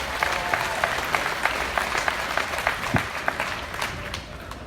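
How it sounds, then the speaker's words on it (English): An audience at a livestock show claps steadily after a young exhibitor's goat win, a dense patter of many hands with light crowd murmur, sustained throughout. "Please give Reese another big round of applause."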